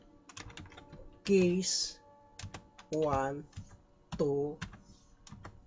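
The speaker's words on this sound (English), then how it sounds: "now I will type here" Computer keyboard keys are tapped in quick, crisp clicks, close by, in bursts between short stretches of someone talking.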